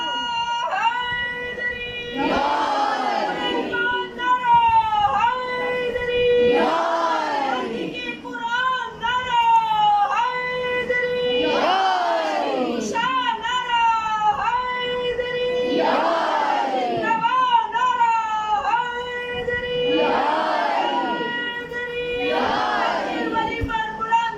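A crowd at a religious gathering shouts slogans in call-and-response waves. Six loud, drawn-out chanted bursts repeat at a steady rhythm, each rising and falling, with a strong voice leading between them.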